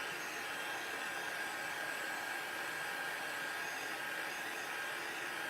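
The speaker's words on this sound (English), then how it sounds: "Let's hit the heat tool one more time. This will help the glue dry as well." A craft heat tool blows hot air to dry glue, a constant close whooshing roar with a faint whine that holds steady throughout and has no voices.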